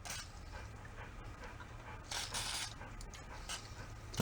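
A dog pants rapidly nearby during a Honda ATV repair, a soft, rhythmic huffing that runs steadily beneath faint mechanical clatter and background noise.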